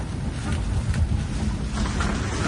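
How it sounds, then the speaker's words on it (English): Strong wind of about 35-40 knots roars steadily over a racing sailboat at sea during the Vendée Globe, with broadband rushing and buffeting, loud and continuous with no voices. "so in average we have around 35-40 knots of wind."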